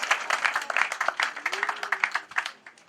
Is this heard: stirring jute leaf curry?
no